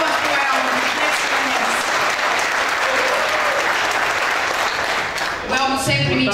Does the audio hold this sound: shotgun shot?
no